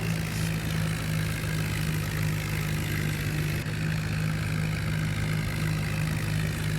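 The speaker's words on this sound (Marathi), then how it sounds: "बघा मित्रांनो कसं ओढतं ट्रॅक्टर उगं पारच" A John Deere tractor engine drones steadily and loudly at full power while pulling a plough through a field, a constant low-pitched hum that holds without pause.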